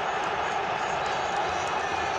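A football stadium crowd roars late in a Barcelona match in a steady, dense wash of cheering and noise that holds without pause.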